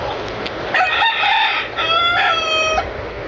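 A bloodline stag rooster crows twice in close succession, loud and near, each a long strained cock-a-doodle-doo in a backyard setting.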